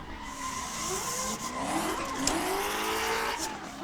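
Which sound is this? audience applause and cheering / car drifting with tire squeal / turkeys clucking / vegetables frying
car drifting with tire squeal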